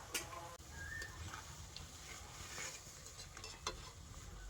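Sweets frying in hot oil, a soft continuous sizzle with scattered small pops and crackles, faint and close.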